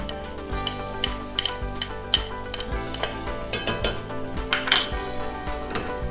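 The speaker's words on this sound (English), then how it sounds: "What I'm going to do now is I'm going to slowly add the clams, gently, adding some of their juice." Clams and their juice being stirred into a celeriac chowder broth, with repeated metal clinks and scrapes of a spoon against the pot and a faint sizzle underneath, close and uneven in rhythm.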